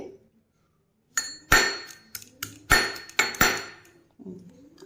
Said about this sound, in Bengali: এবার আদাটাকে আমি একটু থেতো করে নেব।